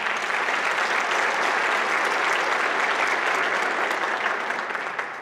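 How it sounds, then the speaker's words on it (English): Warm audience applause at an annual Dr. Martin Luther King Jr. birthday celebration in Milwaukee, a full, even burst of many hands clapping that holds steady for several seconds, with no talk over it. "So let's all give a big round of applause to our county executive, Chris Avery."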